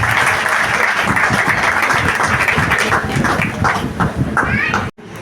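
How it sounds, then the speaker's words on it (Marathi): Loud, sustained applause from an audience welcoming a guest onto the stage at a senior citizens' service organisation's felicitation ceremony in Bhuigaon; dense clapping fills the whole stretch with some voices mixed in, then cuts off briefly near the end. "जोरदार टाळ्या लागेल, जोरदार टाळ्या"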